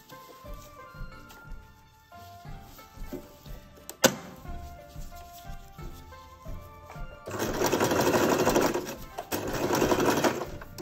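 A sewing machine stitches hair extension wefts strand by strand, with short quiet bursts of needle whirring and clicks at first, then a louder sustained run of steady stitching.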